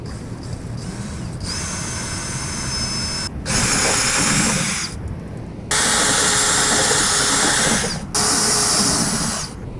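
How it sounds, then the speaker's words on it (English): A power drill with a step bit whines through metal on a Toyota Tacoma bed channel in several loud bursts separated by short pauses, its high grinding tone close to the microphone. "I'm going to use a step bit and start to slowly drill it up."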